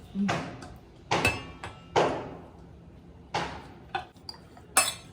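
Chopped cabbage, carrot, beetroot and capsicum tossed in a bowl, several separate scraping clinks of a utensil against the bowl spaced about a second apart, fairly close, with no talk over them.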